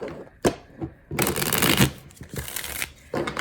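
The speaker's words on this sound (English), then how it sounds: "I shuffle the cards a million times" Tarot cards shuffled by hand in bursts of dense riffling and rustling, with a few soft taps and pauses between, close and moderately loud with no talk.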